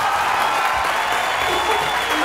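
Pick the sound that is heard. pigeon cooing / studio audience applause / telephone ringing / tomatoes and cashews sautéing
studio audience applause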